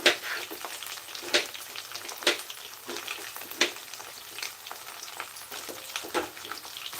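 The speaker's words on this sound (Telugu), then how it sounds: "ఇలా కలుపుతున్నాను" Chopped carrots fry in a pan as a utensil stirs them, with sharp scraping strokes about once a second over a steady sizzle, close up with no talking.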